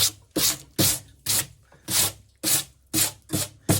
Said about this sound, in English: there's a wire brush laying right yonder, and that's why I'm using this